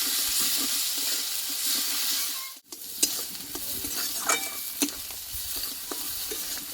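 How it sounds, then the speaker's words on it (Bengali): Curry leaf paste fries in hot oil, a steady bright sizzle broken by scraping stirs and a short pause, with occasional louder clinks of the spoon against the pan. "আমি তেলে এভাবে ভেজে নেবো একটু যেটা কাঁচা গন্ধটা চলে যায়"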